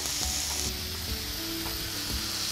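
Mediterranean vegetables sizzle steadily in a hot pan, a continuous crackling hiss with occasional pops and soft stirring scrapes, no voices.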